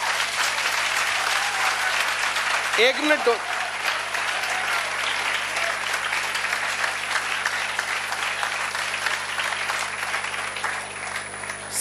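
An audience claps together for a speaker at a school talk among children, a steady dense applause sustained through the whole stretch with a brief spoken phrase over it near the start.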